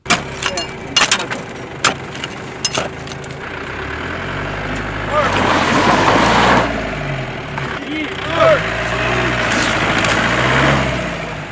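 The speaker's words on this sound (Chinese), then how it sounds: "可刚出发，记者的车辆就陷到了沙包里" Car engine revving and straining while stuck in sand on a desert border patrol route in Xinjiang, heavy low rumbling surges rising and falling, preceded by clattering thumps and voices of people nearby.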